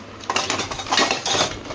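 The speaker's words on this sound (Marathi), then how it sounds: "काचेची भांडी कुठे ठेवू इथं ठेवतो." Glass dishes clinking and knocking against each other as they are set down on a kitchen rack, several close, bright chinks over about a second and a half.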